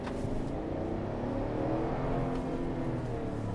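A Chevrolet Tahoe RST SUV engine revs steadily upward as it accelerates, a loud continuous drone with rising harmonic tones from inside the cabin, no voices.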